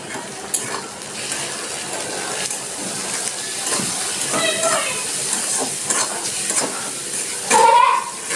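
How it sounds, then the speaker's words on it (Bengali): Chopped onion frying in a pan with ginger and turmeric, a steady soft sizzle with occasional stirring scrapes and clinks of a utensil throughout. "এটাকে বেশ একটু 2 মিনিট ধরে ভেজে নেব।"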